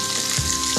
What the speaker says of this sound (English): When you seal a piece of meat, it means trapping the juices inside the meat, so that the meat stays moist.